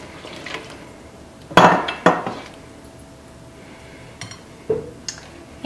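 A cup of water goes into a pan of simmering kofta curry, with a few sharp clinks and clatters of utensil against the pan and brief liquid sounds between quieter pauses.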